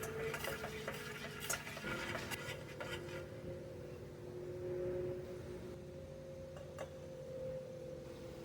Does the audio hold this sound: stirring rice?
yes